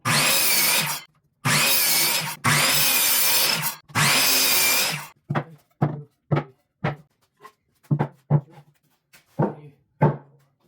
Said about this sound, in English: Start by cutting your 2x4s using a miter saw for clean, accurate cuts.